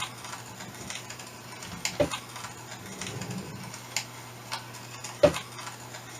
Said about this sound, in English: With vinyl crackle effects, I hit them randomly, so it doesn't sound like a continuous loop